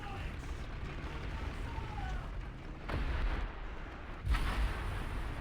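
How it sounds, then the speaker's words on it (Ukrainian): Artillery strikes in a tank video game, a low rumbling backdrop broken by two dull explosion bursts a little over a second apart, with a voice speaking intermittently. "Можна ще арти закинути."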